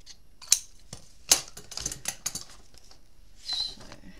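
Scissors trimming material during an art session, heard as a few faint, sparse snips and rustles in a quiet room.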